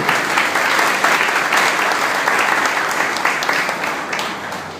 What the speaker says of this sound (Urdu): تالیاں بجائیے خدا کے کلام کے لیے